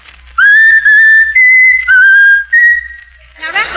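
Raffles the talking mynah bird whistles a tune, a loud, clear, close series of pure sustained notes in several phrases with brief pauses, ending in a short rough squawk.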